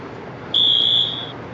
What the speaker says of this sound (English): what the brand is on these fire alarms.